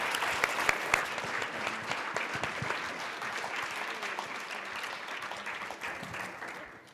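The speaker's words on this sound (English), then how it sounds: "Can we please give our panel a round of applause?" A conference audience applauds a panel on military storytelling in entertainment, a dense, sustained clapping from a large room that stays steady for several seconds and then slowly thins out.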